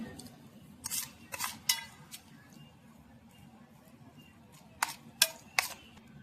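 Shrimp are worked by hand with whisked yogurt, salt, turmeric and mustard oil in a bowl, making soft, wet squelching and clinking bursts close by in two clusters, with quiet pauses between.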